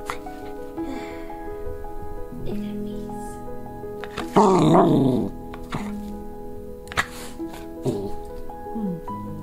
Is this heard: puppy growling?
yes